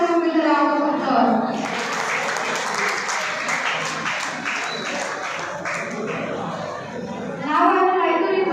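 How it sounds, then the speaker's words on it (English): An audience at a stage event gives a round of applause to welcome a keynote speaker, a dense wash of clapping with some chatter, framed by a voice talking at the start and end. "Please welcome him with a round of applause."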